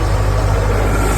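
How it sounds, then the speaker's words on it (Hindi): Engine driving an alternator generator with a voltage fluctuation problem, a loud, steady low-pitched running drone heard close up with no talking. "इंजन की स्पीड भी अलग हो जाती है, आवाज़ देखो"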